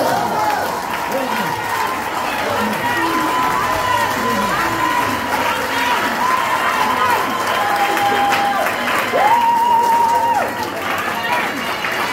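A crowd at a worship gathering bursts into sustained applause and cheering, a dense, steady roar of clapping and shouts lasting throughout, with a voice or sustained tones carrying over the top.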